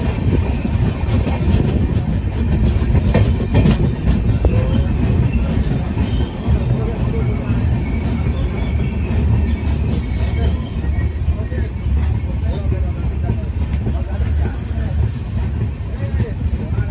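A passenger train running late pulls into Aluabari Road Junction, a steady loud rumble of rolling carriages and rail noise filling the whole stretch, with a voice speaking over it.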